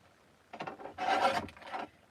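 Cardstock being trimmed for a stamped card, a few close rasping slides of the cutter blade in quick succession, moderately quiet, with no talking.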